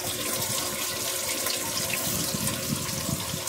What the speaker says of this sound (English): the water run, and I can pull this one out.